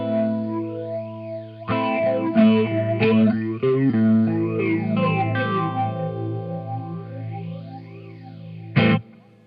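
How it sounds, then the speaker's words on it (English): An electric guitar plays through a Dreadbox Euphoria 8-stage phaser, heard as loud sustained chords with sweeping phase swirls that rise and fall, then a final sharp strum. "this is like a normal phaser sound."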